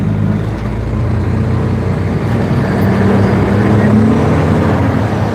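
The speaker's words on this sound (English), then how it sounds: "Let me know if you guys are getting too much truck noise coming through" Truck cab with the windows down, driving through severe weather, giving a loud, steady engine drone and road roar with wind rushing past, continuous and close.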